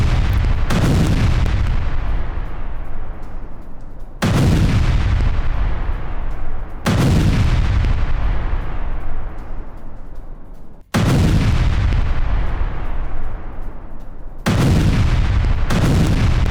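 Heavy booming explosions from Russia-Ukraine war footage strike about every three to four seconds, each followed by a long rumbling decay, loud and echoing with no voices.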